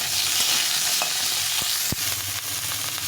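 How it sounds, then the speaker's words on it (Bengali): Cauliflower pieces fry in hot oil in a pan while being stirred, a steady close sizzle with a few sharp scraping and clinking stir strokes, no talking. "এই তেলে আমি ফুলকপিটা একটু ভেজে নেব।"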